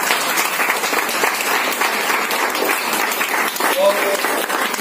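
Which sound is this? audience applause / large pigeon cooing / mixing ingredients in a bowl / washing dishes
audience applause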